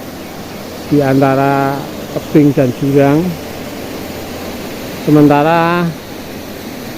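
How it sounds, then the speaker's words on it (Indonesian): Overflow water runs down between cliffs near the Kali Pancur waterfall in Getasan, Central Java. It makes a constant broadband rush beneath someone speaking in short phrases. "Jadi limpahan airnya mengalir ke bawah di antara"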